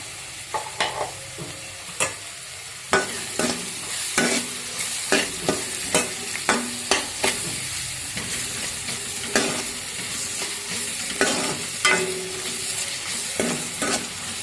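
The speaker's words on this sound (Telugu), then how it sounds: "ఈ మెంతికూరలోకి ఉల్లిపాయలు బాగా వేగాలి పచ్చివాసన అంతా పోయేంత వరకు ఒక రెండు నిమిషాలు ఉడకనిద్దాం" Onions and green chillies fry with fenugreek leaves, turmeric and salt in a pan for a methi tomato curry, a steady sizzle under a run of rhythmic spatula scrapes and taps, close and continuous, with no voice.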